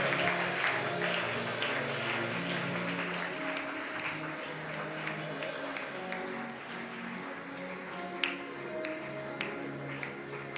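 A church congregation keeps up sustained applause and tapping in a reverberant hall, with a steady hum and voices faintly underneath.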